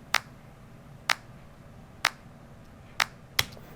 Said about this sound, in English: And here's the clap separately.